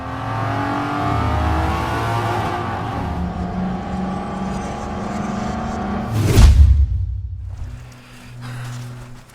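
A stolen getaway car revs its engine and speeds off, loud and close, then rushes past in a sharp whoosh before fading into the distance.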